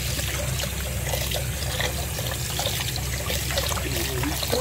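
Ground meat for a homemade burger is rinsed under running water, a steady close trickle and splash of liquid flowing continuously with no talk.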